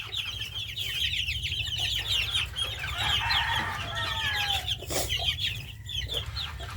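Farmyard chickens cluck at close range in a busy, overlapping chorus, with a rooster crowing now and then over a steady low mechanical hum.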